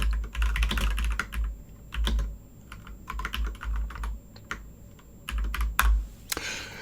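Close fingers tap on a computer keyboard in irregular bursts of clicky keystrokes, with short pauses between runs and a few heavier thumps that sound like the space bar.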